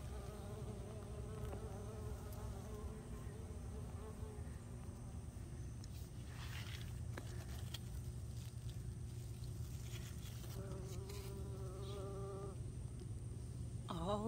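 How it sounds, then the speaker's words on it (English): Bees buzz steadily among garden plants growing Orange Tendersweet and Ananas d'Amerique melons, a dense continuous drone with individual insects passing close and fading throughout. "All the busy bees."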